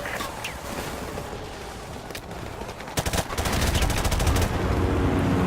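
Suppressive gunfire in Modern Warfare Remastered roars as sustained rapid automatic bursts, loud and dense, building from a steady battle din into heavy continuous shooting.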